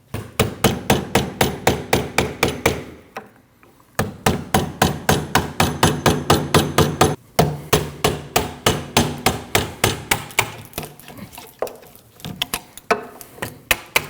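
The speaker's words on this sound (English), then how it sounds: "you're going to have to cut a slot in this and tap the race off with the hammer and chisel" A hammer striking a chisel to drive a bearing race off the rear wheel hub of a 2003-2008 Subaru Forester, loud rapid metallic blows in long steady runs, broken by two brief pauses, close up with no talk.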